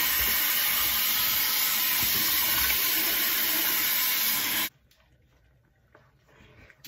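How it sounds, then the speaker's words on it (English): Running tap water splashes loudly and steadily as a face is rinsed at a bathroom sink, then cuts off abruptly, leaving a quiet room with faint drips and small movements. "So let me rinse this off"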